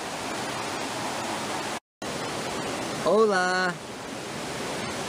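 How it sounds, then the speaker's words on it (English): A nearby river rushes in a loud, steady broadband roar that fills the whole clip, with a brief cut in the sound and a short spoken greeting over the flowing water. "Hope that river's not too loud."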